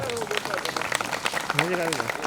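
A crowd at a community gathering claps in a dense, scattered burst while a voice keeps speaking over the applause.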